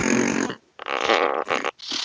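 A voice imitates a truck fart, blowing a long, loud raspy burst followed by two shorter rasping bursts with brief gaps between them.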